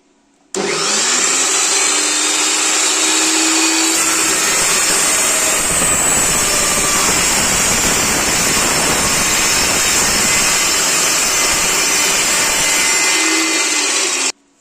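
A Dnipro-M SM-35 Ultra metal chop saw spins up and cuts through metal with a loud, steady, high-pitched grinding whine lasting about thirteen seconds, then winds down and stops.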